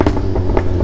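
A Ford Mustang GT exhaust gives a short burst of crackling pops over a deep engine rumble, loud and close.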